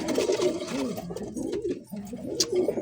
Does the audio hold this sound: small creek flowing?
no